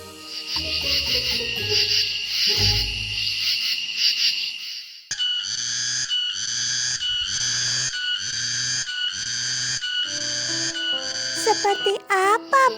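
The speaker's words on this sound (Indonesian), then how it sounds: "Suara Tonggeret masih ribut." Loud, dense cicada buzzing drones steadily throughout, shifting to a pulsing rhythm midway, with a few low thumps and brief chirps near the end.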